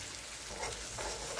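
Ground masala paste for egg curry sautéing in a pan, giving a brief, soft, steady sizzle with a little stirring, faint and alone.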